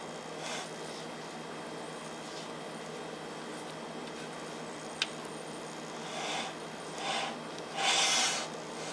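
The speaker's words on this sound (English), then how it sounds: "As you can see, the chocolate's beginning to melt. Be patient, just keep stirring it around." A utensil stirs melting chocolate in a pan for lava cake, giving a faint, steady scraping and rubbing with a few louder swishes near the end and one sharp tick midway.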